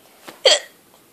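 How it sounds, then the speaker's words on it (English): An eleven-year-old child gives one sharp, close hiccup, preceded by a faint catch of breath, in an otherwise quiet room. "I have the hiccups."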